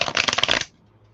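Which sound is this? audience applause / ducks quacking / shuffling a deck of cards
shuffling a deck of cards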